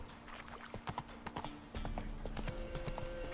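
Hooves of Roach the horse in The Witcher clip-clop in a quick, steady rhythm, close and moderately quiet, over a low game background hum.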